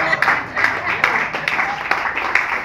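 A church congregation claps during a service, a steady mid-distance patter of many hands running the whole time beneath a voice speaking over it.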